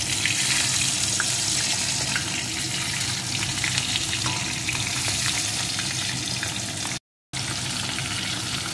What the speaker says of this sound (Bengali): মাছগুলো কিন্তু খুব নরম হয়, আস্তে আস্তে করে উল্টে পাল্টে ভাজতে হবে।